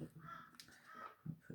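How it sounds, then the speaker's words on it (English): Harsh caws from crows, several calls in quick succession, fairly faint and somewhat distant, with no talking. "those crows can be very, very noisy"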